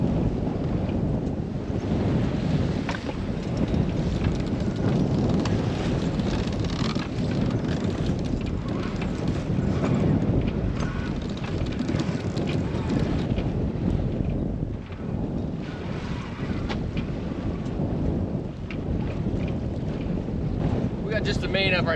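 Strong wind roars steadily across the microphone aboard a solo-sailed sailboat off Catalina Island, mixed with the rush of water against the hull, loud and continuous throughout with no speech.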